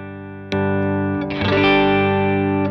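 Electric guitar plays through a slightly cranked 100-watt amp with a Thorpy Heavy Water boost pedal, a sustained chord struck loud and distorted, then a second strummed chord that rings out thick and saturated with no talking.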